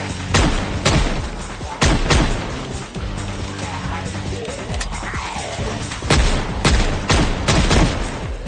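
Repeated loud .38 Special revolver shots from a five-shot wheelgun in Project Zomboid, sharp booming reports in irregular bursts over a steady low rumble of ambient game noise.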